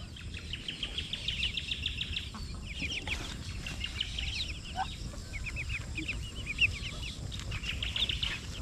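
A flock of ducks being herded into a pen, giving repeated quacking and clucking calls in steady bursts over a constant low background rumble.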